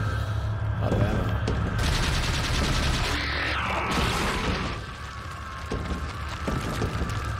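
Steyr TMP submachine gun fire in Resident Evil 4, a long rapid-fire rattle lasting several seconds with mechanical clatter, then a few separate shots after a brief lull.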